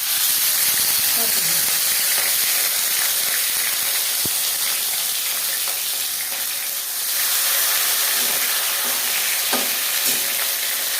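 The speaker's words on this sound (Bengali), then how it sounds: "ভাজবার সময় সিল করা দিকটা সবসময় নিচে দিতে হবে।" Fish paturi sizzling in hot mustard oil in a pan: a steady, loud frying hiss with small crackles and pops throughout, almost no talk.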